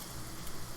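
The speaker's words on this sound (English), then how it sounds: "That is the sound of it sizzling." Butter, onions and carrots sizzling in a pan, a dense, steady frying hiss heard close up with no talk.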